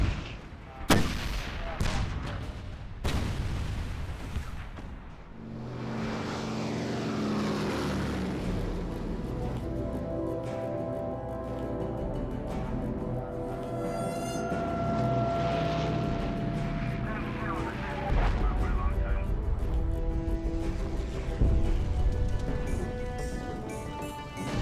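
A wartime gunfire barrage opens with a few sharp, loud blasts, then gives way to a sustained rumbling, droning roar of engines or aircraft that continues to the end.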